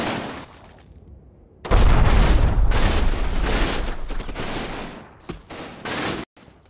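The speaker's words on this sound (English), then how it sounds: "I order my machine guns to rake the area in order to keep any enemy troops there suppressed" Dense rattling bursts of machine gun fire with booming impacts in the World War II video game Combat Mission: Battle for Normandy, loud and continuous for several seconds before cutting off abruptly.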